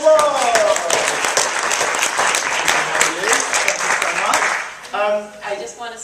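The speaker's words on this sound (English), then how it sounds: "Give Cindy a round of applause." Audience applause at an early-stage talk for a stage group, a dense wash of clapping that holds steady for about five seconds before thinning out. A voice cuts in near the end.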